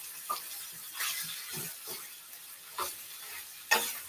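Cut-up cabbage sautés in a pan with a faint, steady sizzle, broken by a few soft stirring scrapes and clinks. The sound is close and quiet.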